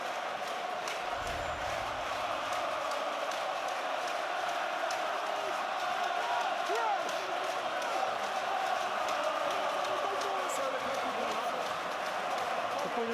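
A stadium crowd at the Ulster v Saracens rugby quarterfinal keeps up a constant, distant roar, with a brief low thump near the start.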